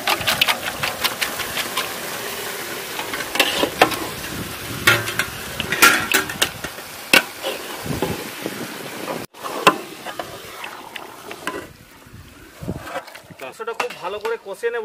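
Country chicken korma being stirred and fried in a pot with Kashmiri red chilli, salt and spices: sizzling under repeated scraping stirs and clatter, with someone talking over part of it.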